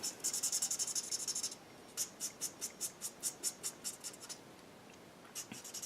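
Chameleon marker pens scratching across paper during gradient coloring: a sustained run of rapid scribbling strokes, then a series of short, evenly spaced rubbing strokes, close and fairly quiet.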